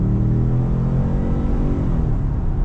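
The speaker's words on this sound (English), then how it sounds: "This engine, I mean, it does sound a little bit rough, as V6s usually do" A 2026 Ford F-150 pickup's V6 engine revs hard under full acceleration, a loud, steady, somewhat rough rumbling drone that holds throughout.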